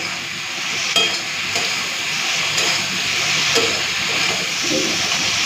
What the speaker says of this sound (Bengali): চলো মশলাটাকে ভালো করে ভেজে নিই। জল দেবো না, ঢাকা দিয়ে দিয়ে এইভাবে সজনে ডাঁটাটাকে ভেজে নেব।